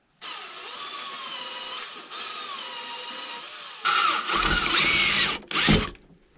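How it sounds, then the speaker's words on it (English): A power drill bores out rivets on the frame of a 1986 Polaris Trail Boss 250 two-stroke ATV, first whining steadily, then biting harder and louder in rough bursts that end with sharp stops. "If we drill those two, I think we're good to go."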